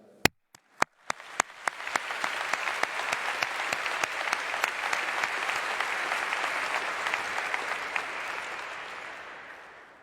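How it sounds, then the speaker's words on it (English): A graduation ceremony audience breaks into applause. A few sharp, separate claps come first, then a broad, sustained wave of clapping from a large crowd that slowly fades toward the end. "Let's all acknowledge each other's wonderful communities with a round of applause for those who have gotten us here today."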